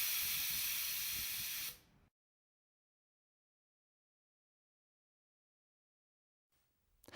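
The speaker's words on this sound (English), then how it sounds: "Enter test mode and initiate the air spraying test." A loud, steady hiss of air spraying from a pneumatic nozzle on a welding robot during an air spraying test, for nearly two seconds, then it cuts off abruptly into silence, with a faint rustle at the end.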